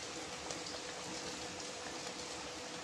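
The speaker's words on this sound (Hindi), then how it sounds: "आप देख सकता है बारिश" Steady rain falling on a garden, a dense even hiss of drops with no voices, soft and continuous throughout.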